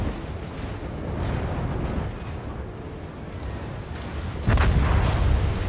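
Heavy naval guns boom from a warship, the Scharnhorst, in the game World of Warships over a rumbling battle backdrop, with a louder blast near the end.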